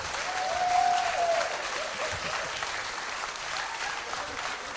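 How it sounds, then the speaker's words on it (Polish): Audience applause at a comedy cabaret show for a man called up from the crowd, steady dense clapping that swells early then holds evenly, with a faint cheer near the start. "Brawa dla pana Adama, brawa"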